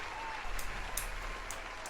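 Brief applause from a small group of podcast listeners, steady clapping that sits at a moderate level for under two seconds with no voices on top.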